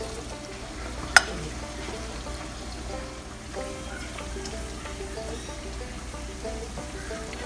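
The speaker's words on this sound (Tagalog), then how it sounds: "Ngayon naman po sa isang separate pan, magtunaw naman po tayo ng butter." Two tablespoons of butter melt in a separate pan while cooking sizzling tofu, giving a quiet, steady sizzle throughout with one sharp click near the start.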